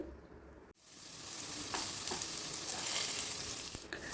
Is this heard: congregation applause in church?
no